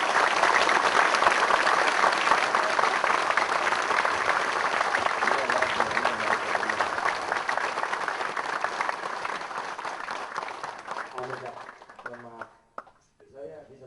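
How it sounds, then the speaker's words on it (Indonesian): An auditorium audience breaks into long, loud, sustained applause and fills the room with dense clapping, which thins out and fades near the end. "Saya ingin Anda tepuk tangan keras, panjang, penuh cinta"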